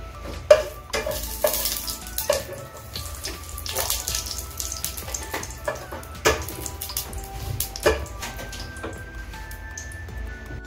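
Cinnamon fries in hot butter while a utensil stirs the pan, producing a low sizzle under irregular scraping and clinking strokes that come close and fairly loud, with no voices.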